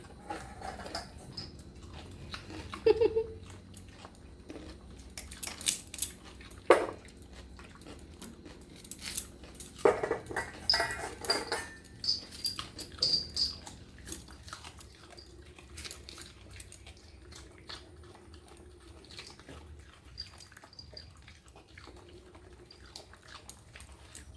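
A dog chewing and eating pumpkin up close, with irregular wet bites and crunches coming in bursts, then quieter stretches of softer chewing.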